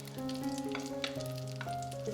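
Salmon sizzles in melted butter in a pan, a quiet, steady frying crackle under some tonal background sounds, with no talking.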